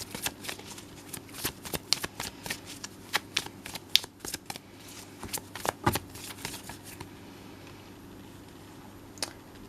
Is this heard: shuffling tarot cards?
yes